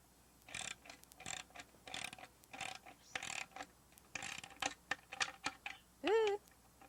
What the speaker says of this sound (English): first thing I need to do is tighten down the bolts on the bottom